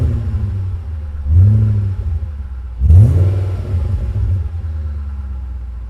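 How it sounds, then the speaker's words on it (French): A BMW 840ci V8 idles with a deep steady rumble, then revs twice in two rising surges, about a second and a half apart, settling back to idle after each. "vous entendez chanter un peu le moteur, le V8 qui équipe le modèle."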